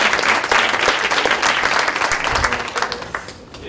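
Applause fills a conference room during an agile software development talk, a full and close burst of many hands that thins slightly toward the end.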